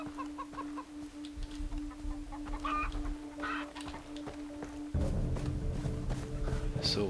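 A chicken clucking in the video game Far Cry 3, a few short clucks over ambient game sounds, with someone talking at times.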